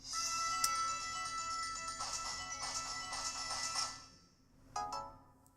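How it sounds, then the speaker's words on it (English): A Nintendo Switch startup sound: a short, bright electronic chime jingle plays, then a couple of quick clicking tones follow after a brief pause, faint and slightly distant. "obviously Nintendo Switch made the iconic sound when it switched"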